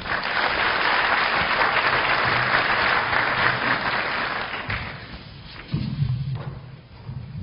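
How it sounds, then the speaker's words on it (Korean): Audience at a university entrance ceremony applauding to welcome a guest speaker, sustained loud clapping from a large crowd that fades after about five seconds, followed by a few thumps and shuffling. "박수로 맞이해 주시기 바랍니다"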